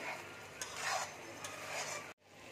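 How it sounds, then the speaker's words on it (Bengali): Spice paste with salt frying and being stirred in a pan, a steady close sizzle with scraping strokes, briefly cut off near the end. "মশলাটাকে ভালো করে ভেজে নেব।"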